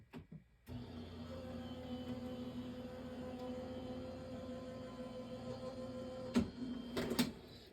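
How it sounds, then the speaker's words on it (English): Steady mechanical hum and rumble of paper being run through an Anna Griffin Empress embossing machine, continuous for several seconds and ending with a few sharp clicks and thumps, close by with no speech. "I'm just going to run this through my Anna Griffin Empress machine."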